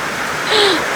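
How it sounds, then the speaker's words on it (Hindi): Heavy rain pours near a boat harbour in Bali, a dense, steady close hiss throughout, with a brief faint tonal whine rising over it midway. "बारिश वापस से बहुत तेज़ हो गई है"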